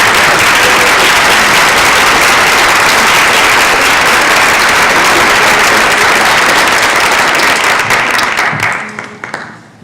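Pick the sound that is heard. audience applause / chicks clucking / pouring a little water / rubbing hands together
audience applause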